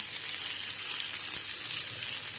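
A large Vanjaram fish fries in an oiled pan with onion, giving off a steady, close, hissing sizzle that continues evenly with no talking.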